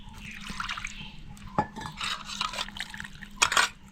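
Water splashes and drips while a mixer jar is washed in a Konkan home kitchen, with intermittent clinks of pots and utensils, close and fairly quiet.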